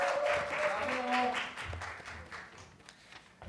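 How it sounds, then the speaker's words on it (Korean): Audience applause before a student's speech, a steady patter of clapping that fades out over a few seconds. "학교에서 온 조준희 학생의 연설을 박수로 들어보겠습니다."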